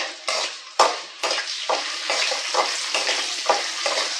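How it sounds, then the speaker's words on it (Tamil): Peanuts and urad dal sauté in a hot pan, with a continuous sizzle broken by repeated scrapes and stirs of a spoon, close and fairly loud. "நல்ல கலர் வர அளவுக்கு வதங்கட்டும்"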